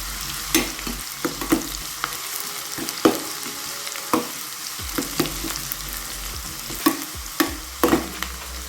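Shallots and garlic sizzling in coconut oil for a dal curry, a steady hiss broken by regular sharp spatula scrapes and taps against the pan, close and alone.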